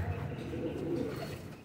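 A breeder pigeon gives a short, low, throaty coo, close and fairly loud, with no talking over it.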